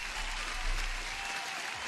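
Steady applause from many hands, a continuous dense clatter heard at a moderate distance, holding evenly for a couple of seconds with a low hum underneath and no talk.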